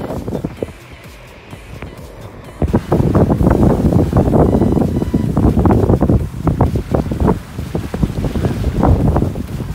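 A sailboat underway in strong wind on the Hauraki Gulf in New Zealand, with loud, close buffeting wind noise and rushing water that rises sharply after a quieter start and stays heavy and gusty to the end.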